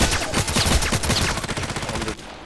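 Rapid bursts of assault rifle fire in the online shooter Contract Wars, loud and close, repeated automatic shots for a couple of seconds before cutting off.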